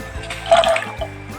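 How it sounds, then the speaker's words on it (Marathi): Dry rajma kidney beans are dropped into hot water in a pressure cooker, a short close splash and watery gurgle lasting about a second. "पाणी गरम झालेलं आहे त्याच्यामध्ये आपण राजमा घालूया"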